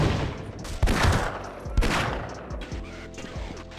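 Gunfire and grenade blasts in the Half-Life video game, a few sharp loud bangs about a second apart over a dense roar of shooting and combat noise.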